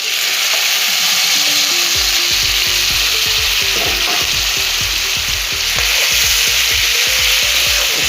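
Goat mutton frying in a karahi: a loud, close, constant hiss of hot oil, with stirring clatter and bubbling pops rising through the middle.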